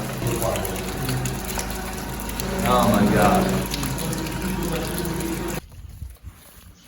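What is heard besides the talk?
water flooding in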